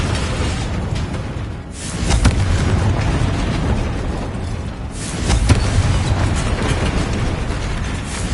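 A Confringo spell explosion in the game Hogwarts Legacy booms loudly over a continuous roaring, rumbling background, with two heavier bursts swelling out of the dense wash of sound.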